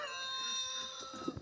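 Chickens clucking and calling on an Iowa farm on a mild morning, faint and brief, with a steady background hum.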